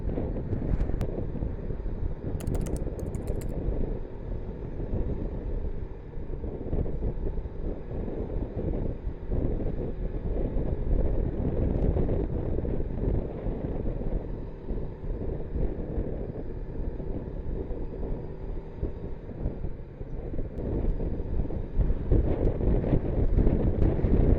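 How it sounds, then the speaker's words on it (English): Wind gusts across a dry backcountry trail in southeast Manitoba, buffeting the microphone with a heavy, steady low roar and rustle that lasts throughout. "Sorry, wind."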